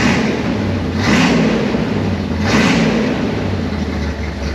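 A C1 Corvette with an induction conversion, its engine cold, revs loudly and aggressively in two distinct surges over a rumbling idle.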